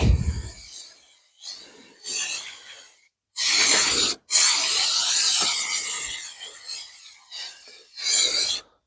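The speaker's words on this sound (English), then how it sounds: "spray the back of the insulation" Several bursts of hissing spray from an aerosol can of adhesive applied to the back of insulation in a Citroen Relay van, some short and one long sustained blast, separated by brief pauses.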